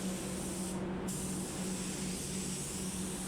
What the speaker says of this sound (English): I'm just coming in with a second coat of clear now